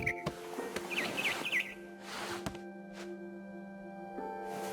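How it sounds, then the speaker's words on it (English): Barn swallow chirping in the video game What Remains of Edith Finch: a few quick, high twittering calls near the start, set against a steady ambient game hum with soft thumps. "Then I heard chirping outside my window. It was a barn swallow going back to her nest."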